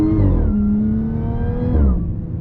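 An Audi S4 fitted with an Integrated Engineering intake revs loudly up close, its engine note rising, holding, then dipping and rising again as the throttle changes, with no talking over it.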